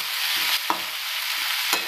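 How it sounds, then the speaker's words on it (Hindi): Finely chopped onions sizzle softly in a frying pan as they are stirred, giving a steady quiet hiss with a couple of brief scraping stirs. "ये देखिए मैंने प्याज डाल के इसको थोड़ा अच्छे से चला लेंगे।"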